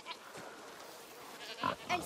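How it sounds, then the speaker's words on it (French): A gentle farm goat bleats softly a few times, faint short calls near the end after a quiet stretch, in a French game scene set among farm animals. "T'es une gentille chèvre, Lucinda."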